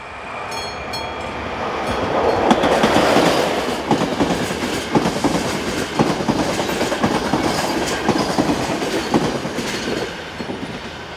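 A Class 350 electric locomotive, number 019, hauls an eastbound passenger train from Bratislava toward Košice, its wheels clattering steadily over the rails at close range as the loud rumble swells early and then holds on.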